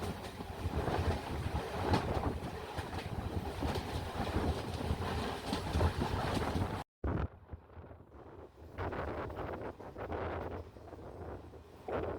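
An express passenger train pulls into Kochuveli station, a loud, steady rumble of wheels and carriage noise running continuously, broken by a brief gap, then resuming slightly softer with rattling and clatter.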